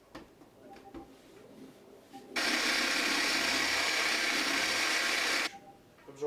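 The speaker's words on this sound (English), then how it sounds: "I'm going to start it pretty slow on speed 1, hold in one place, and let the polish sort of diffuse throughout the pad." A car polisher on its slowest speed setting spreads polish across its pad, a steady whirring hum lasting about three seconds that starts and stops abruptly between quieter handling noises.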